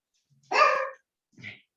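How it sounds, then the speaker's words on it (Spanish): A small dog gives two short barks nearby, a strong first bark followed by a softer second one, with silence around them. "la perrita le dio por ladrar ahora"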